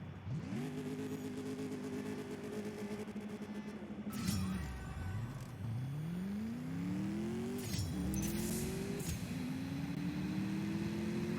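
Mercedes-AMG S 63 Coupe engine in the CSR2 racing game, revving up through repeated rising pulls with brief gear-shift dips, loud and steady throughout with no talk.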